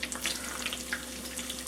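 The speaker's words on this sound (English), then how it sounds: "I'm putting them in where the oil is about half up on them" Mozzarella cheese sticks dropped into hot oil, giving a dense, steady hiss and crackle of frying that fills the short moment without any voice.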